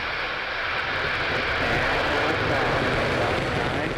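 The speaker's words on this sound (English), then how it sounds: "Engine ignition. 1. Ignition." A steady, loud roar of a SpaceX Falcon 9 rocket engine at ignition and liftoff, broad and rumbling, holding constant without breaks over several seconds.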